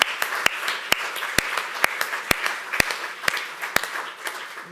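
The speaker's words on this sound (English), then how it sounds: "applause for them, applause for them" Applause at an EU enlargement cultural heritage event: a thin, sparse clapping with sharp individual claps at a steady rhythm, close and moderately loud.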